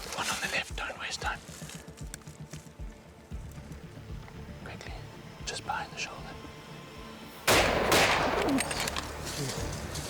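A rifle shot at a cape buffalo during a hunt in Zimbabwe, one sudden loud blast late in the clip that leaves a broad noisy tail, after quiet hushed whispering and rustling in the bush.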